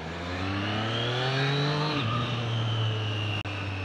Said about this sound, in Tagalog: my personal motorcycle, the 2024 Triumph Street Triple R